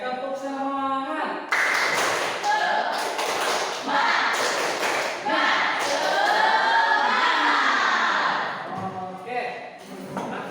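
A classroom of students performs a rhythmic spirit clap (tepuk semangat), sharp patterned claps and thumps mixed with loud group chanting voices, close and energetic for about ten seconds.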